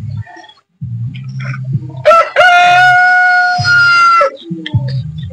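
A Buff Orpington rooster crows loudly and close, one long drawn-out call, among low clucking and murmuring from Buff Orpington hens before and after.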